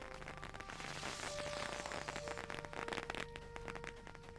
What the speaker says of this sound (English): I missed that firework completely.